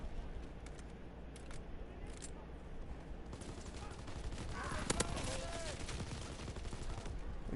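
Rapid bursts of MG15 machine-gun fire in a WW2 video game, dense and sustained over a busy battle bed of other gunfire, with voices talking over the shooting.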